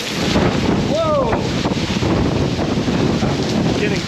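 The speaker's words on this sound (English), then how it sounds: "I don't think we've seen the really big gusts yet, but we're seeing some significant gusts." Hurricane Ian's wind gusts pound the microphone in September 2022, a loud, continuous roaring buffet with a brief rising whistle near the start.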